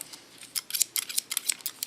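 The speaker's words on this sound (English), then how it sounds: "My scissors are still in the line of the eyebrow." Scissors snip through a man's hair during a haircut, a quick series of close, crisp metallic clicks in an irregular rhythm with no talking.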